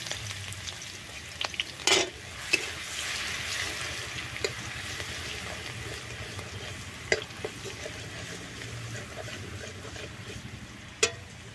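Two bay leaves and crushed garlic frying in sugar caramelized in a pan: a steady close sizzle with occasional sharp clinks of a utensil against the pan.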